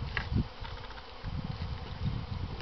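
Honeybees buzzing around a hive, a soft, steady hum of many wings close by, with a few louder passes as single bees fly near.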